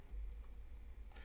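Quiet, rapid tapping of keys on a computer keyboard, a brief run of soft clicks close by over a low background hum.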